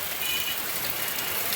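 Heavy monsoon rain pours down steadily over Kalyan Dombivli, a dense, continuous hiss of drops striking surfaces, loud and unbroken with no voices.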